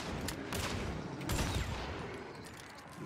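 Gunfire in the video game Hunt: a rapid fusillade of shots cracks out continuously over a rumbling background for about three seconds, loud and close.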